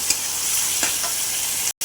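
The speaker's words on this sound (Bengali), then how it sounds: "এই গাজরটা তেলের মধ্যে দিয়ে নাড়াচাড়া করছি।" Carrot pieces sizzle in hot oil while being stirred in a pan, a constant frying hiss with a few soft spatula scrapes and a brief cut near the end.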